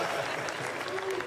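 A crowd at the SpeeDons live speedrunning charity event claps in dense, continuous applause, with faint voices mixed in.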